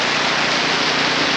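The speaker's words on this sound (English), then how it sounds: "it's still raining" Steady rain hisses evenly outdoors during a 50-mile trail ultramarathon in Ottawa, Kansas, as a dense, continuous wash of noise with no voices.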